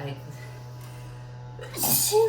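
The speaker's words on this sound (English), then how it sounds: "Whoop, I gotta sneeze. Achoo!" A single sharp sneeze bursts out near the end, loud and close, after a stretch of quiet room tone with a low steady hum.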